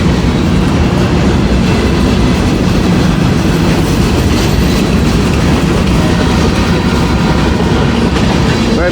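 A mixed manifest freight train passes close by with a loud, continuous roar of rolling cars and clickety-clack wheels across the entire span.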